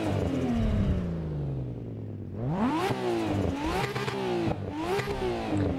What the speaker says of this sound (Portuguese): Que ronco é isso aqui, mano?